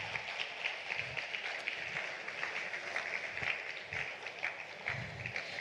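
An audience at an autism conference claps steadily for a psychiatrist on the panel, a dense, even patter of many hands heard from within the hall.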